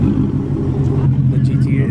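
A car engine idles steadily at a Cars & Coffee meet, a constant low rumble close by with people talking over it.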